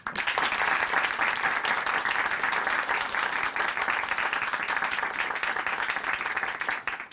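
Sustained, even applause from a church audience after a testimony on a Christian broadcast, a full steady clatter of many hands lasting several seconds before fading at the end.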